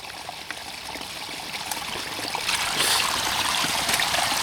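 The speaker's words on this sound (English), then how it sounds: "it's flowing a lot better right now. A lot more water is coming out of it." Water gushes steadily from an opened pipe in a homemade suction-driven air compressor setup, a continuous rushing trickle that grows louder and fuller partway through.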